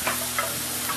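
Fajita meat marinated in lime juice sizzles on a grill with a soft, continuous hiss and a few light ticks and pops.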